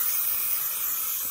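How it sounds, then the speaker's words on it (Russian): Spray paint can hissing steadily as it coats the lower bar of a wheel in a farm workshop, a continuous close airy spray with no pauses. "Теперь баллончик переверни и низ дуни как раз."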